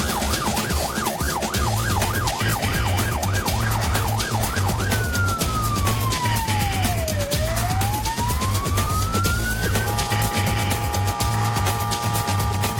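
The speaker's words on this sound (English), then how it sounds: "Despite the sirens, horns" A police siren on Australia's Gold Coast wails continuously, shifting from a rapid yelp to slow sweeping tones, loud over steady traffic and engine rumble.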